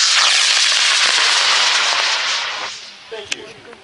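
Black Brant 2 model rocket launching on an H-123 motor at a high-power rocketry meet, a loud roaring hiss that holds steady and then fades as the rocket climbs, with a sharp crack near the end.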